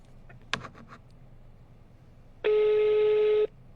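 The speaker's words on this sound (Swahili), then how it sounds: "Simu yake inaitana." An outgoing phone call rings. A few soft clicks come first, then a single steady ringback tone sounds for about a second, clear and alone.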